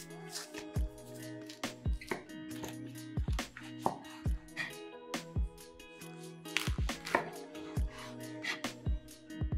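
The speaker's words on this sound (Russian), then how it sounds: "Перед подачей рулет нарезаем на порционные куски." A knife cuts through a soft lavash roll with salmon and herbs in a series of irregular slicing strokes, each ending in a light tap on the board, close and quiet.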